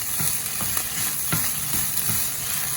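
Vegetable fried rice with chopped curry leaves sizzles in a pan under a steady hiss, with a few soft scraping stirs breaking through at intervals, close and without speech.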